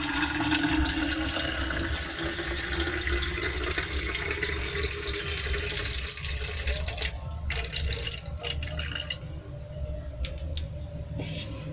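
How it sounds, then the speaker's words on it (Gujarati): Lemon juice pouring into an empty bottle makes a steady, close, trickling gush of liquid that runs continuously and alone. "અહીંયા લીંબુના રસને આપણે બોટલમાં એડ કરી લઈશું"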